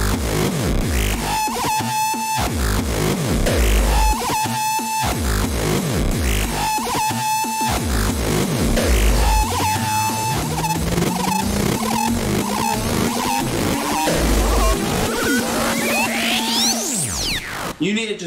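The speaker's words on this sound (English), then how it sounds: "Does your drum machine sound like this? You need it to sound like this." A heavily distorted drum machine beat in a hard, dark electronic style, with pounding kicks in a steady repeating pattern, loud and close, and a rising synth sweep building over the second half.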